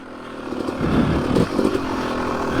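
A Yamaha YZ 250 dirt bike engine drones steadily on a trail ride, a close, buzzy two-stroke note that swells briefly around the middle and keeps running throughout.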